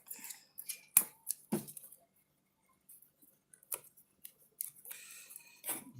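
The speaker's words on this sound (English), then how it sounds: "I need to tape it up." Tape is torn and wrapped around a bare wire on a temperature controller, giving sharp crinkly rips and scrapes in short bursts with a pause in the middle, close and fairly quiet.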